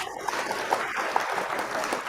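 An audience at a coding bootcamp closing ceremony applauds in a short, steady burst of clapping, moderately loud and continuous with a few sharper claps standing out.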